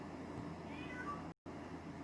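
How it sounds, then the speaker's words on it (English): Soft cat meows rise faintly from a quiet indoor room over steady low hum, broken by a brief moment of total silence near the end. "you can hear my cats and everything"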